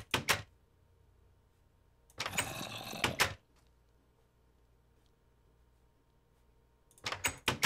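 Blocky Minecraft door sounds: a short clatter at the start, a longer rattling burst in the middle, and another at the end, each loud and close with near silence in between.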